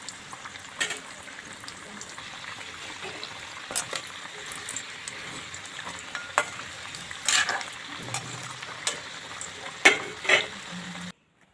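Mughlai paratha fries in oil in a quiet, even sizzle, broken by scraping and stirring clatters from a utensil and a few louder bursts.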